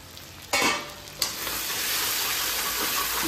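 Chicken and potato pieces sizzle steadily in a pan, with two sharp scraping stirs early on, then an even, close frying hiss that continues without any talking.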